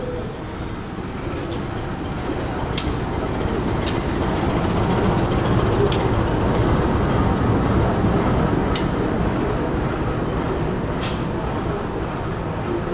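KA Brantas passenger train pulling into platform 1 at a station: a steady, loud rumble of wheels and cars fills the whole stretch, with a few sharp clanks recurring every couple of seconds.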